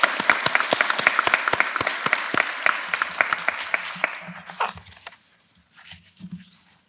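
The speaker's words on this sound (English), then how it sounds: "give these people a round of applause for their accomplishment" Clapping from an audience at a nursing school pinning ceremony is steady and fairly close for about four seconds, then dies away into quiet low murmurs.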